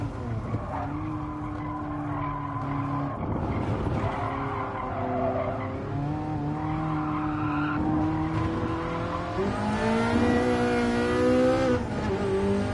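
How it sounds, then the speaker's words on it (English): A Ferrari race car in Gran Turismo Sport revs hard and climbs quickly through the gears. The engine note rises sharply, drops at each upshift, then climbs again, loud and close. "it's revving so quickly that the upshift to the second has to happen pretty much immediately."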